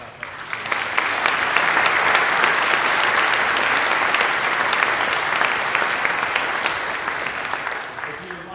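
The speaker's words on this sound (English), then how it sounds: "a big round of applause for Riverside Presbyterian" A concert audience in a Presbyterian church gives a big round of applause, swelling quickly into a loud, sustained wash of clapping that holds steady for several seconds before fading out.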